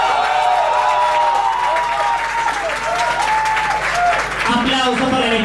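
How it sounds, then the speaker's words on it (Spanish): A television studio audience applauds for a team on a Spanish-language show, a steady dense wash of clapping with a few cheers, and a voice speaks over the final second. "aplausos para el equipo Francis y François."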